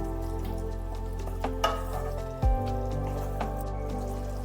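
Tomatoes with turmeric and salt are stirred in a pan, a soft steady sizzle with occasional clicks and a louder scrape of the spoon partway through.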